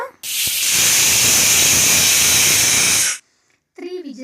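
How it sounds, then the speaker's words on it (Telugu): A pressure cooker whistle vents steam while a cauliflower and potato curry cooks: one loud, close, continuous hiss of about three seconds that cuts off sharply, followed by a brief voice. "కుక్కర్ మూత పెట్టి విజిల్ పెట్టుకోవాలి మనకి ఇక్కడ విజిల్స్ అనేవి త్రీ రావాలి"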